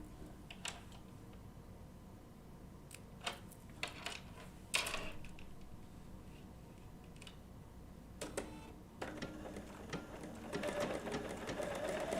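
Bernina B790 PRO sewing machine with an open toe foot stitching wool applique, running in short separate bursts with pauses, then a steadier stretch near the end, close and fairly quiet.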